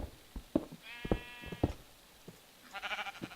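Sheep bleating in Minecraft (Life in the Woods Renaissance modpack), several short, close bleats in quick succession with game footstep-like thumps between them.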